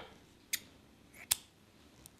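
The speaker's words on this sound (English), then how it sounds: "Now we can cut the yarn" Scissors snip through crochet yarn in two or three crisp, quiet cuts spaced about a second apart, close by in a quiet room.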